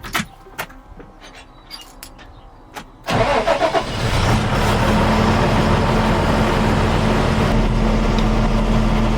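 A Fendt 716 Vario tractor starts up after a few faint clicks and rattles, then its engine settles into a loud, steady running drone close by, with no talking.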